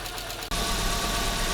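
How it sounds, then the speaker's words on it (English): A 1987 Audi 5000 S engine idles steadily at close range after warming up, a continuous low rumble with a faint knocking texture and no voices. "So the car is running."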